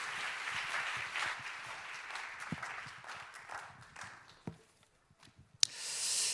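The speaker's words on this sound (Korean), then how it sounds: "우리 양성훈 사님 올라오실 때 큰 박수로 환영해 주시면 감사하겠습니다" Crowd applause welcoming a speaker to the stage at a church youth worship gathering, fairly faint and distant, tapering off into near silence with a few scattered sounds at the end.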